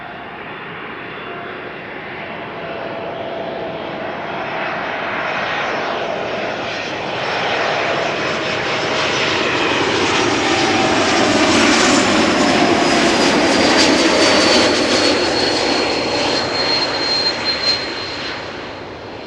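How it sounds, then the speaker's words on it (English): A landing aircraft with geared turbofan engines roars steadily and loud for the whole stretch, a thin high whistle riding over the broad rumble as it passes close and swells toward the end. "Typical whistle sound that you're also hear when A220s land."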